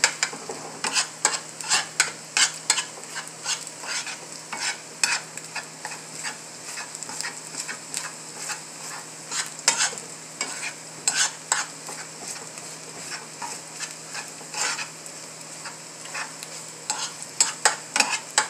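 An egg fries in a pan and is stirred with a utensil, giving a constant close sizzle broken by many quick scraping and tapping strokes in a busy, uneven rhythm.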